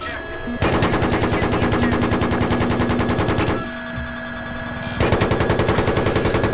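Rapid machine gun fire from a helicopter door gun in a video game rattles loud and close in long sustained bursts, pausing briefly before another burst, with engine drone underneath.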